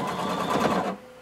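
A sewing machine runs through all the layers of a blazer pocket in one brief close burst that stops abruptly.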